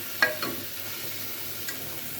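Onion and tomato masala sizzles softly in a pan while a spoon scrapes and stirs a few times, quiet and close, with no talking.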